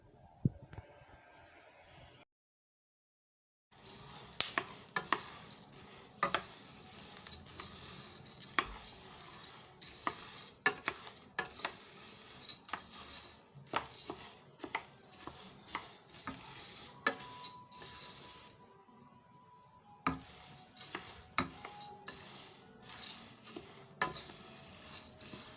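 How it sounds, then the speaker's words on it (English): Soybeans rattle and scrape as they are roasted and stirred in a pan, a steady run of dry clicks and tapping strokes with a faint sizzle, quiet overall, after a short silent gap near the start. "So we are roasting it."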